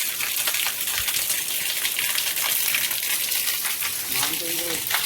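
Heavy rain pours in Uttar Pradesh onto a muddy cattle yard where cows stand, a dense continuous wash of falling and running water with faint voices in the background.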